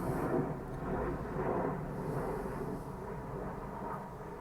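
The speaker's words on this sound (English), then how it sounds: "if I can just wait for the plane to go over" A steady low rumble of an airplane passing over a koi fish farm, broad and droning, moderately loud and swelling slightly before easing off.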